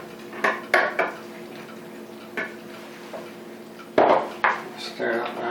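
A spoon scrapes and clinks against a pot of beef stew with beef gravy, giving several sharp knocks and scrapes amid quieter stirring, with faint talk in the background.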